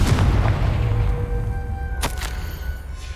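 A Confringo fire-blast spell explodes in Hogwarts Legacy, a loud booming blast with a sharp crack partway through, close and dense with low rumble.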